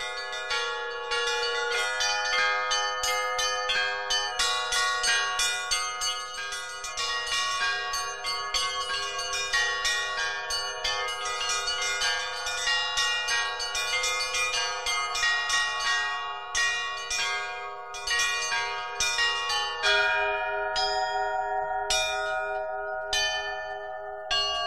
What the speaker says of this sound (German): Russisches Glockenspiel, eine Mischung aus Taktsicherheit und Improvisationskunst.